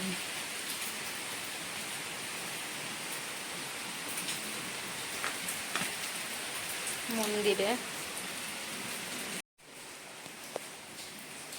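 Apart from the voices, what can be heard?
heavy rain pouring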